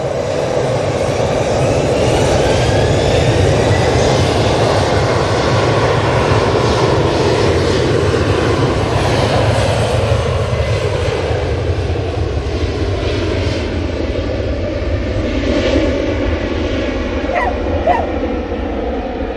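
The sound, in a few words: TAP airliner departing Manchester Airport toward Lisbon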